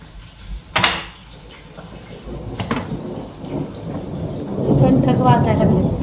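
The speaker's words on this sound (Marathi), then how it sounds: "ढगांचा आवाज आला तर आला" Thunder in a village storm: a sharp crack near the start followed by rolling, rumbling thunder that builds and stays loud toward the end, with rain pattering underneath.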